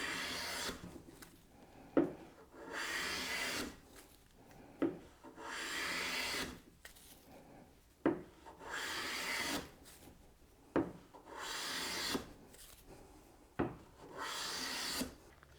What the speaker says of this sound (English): I can plane this face down just as much as I like